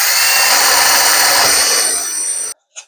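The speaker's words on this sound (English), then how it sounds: "We're going to drill straight through." A power drill bores straight through a Ryobi saw blade clamped down for a clock project, giving a loud, steady high-pitched grinding whine for about two and a half seconds before cutting off abruptly, followed by a brief faint clink.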